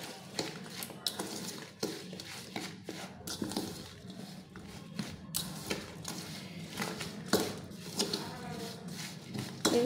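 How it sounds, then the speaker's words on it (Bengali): A spoon mixing homemade green chilli pickle with spices in a bowl, irregular close scraping and clinking of metal against the dish in a busy stirring rhythm, without talk. "এইভাবে চামচ দিয়ে ভালো করে মেখে নেব"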